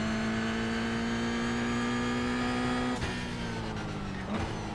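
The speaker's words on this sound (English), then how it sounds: "Keeping it in third, downshifting to second." Race car engine in an iRacing IR Cup Series race at Long Beach, holding a steady high whine that dips sharply as the driver downshifts from third to second, then climbs again, loud and continuous with no talking.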